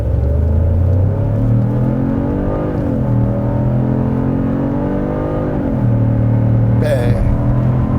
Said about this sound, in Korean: 저는 급가속부터 한번 테스트 해보겠습니다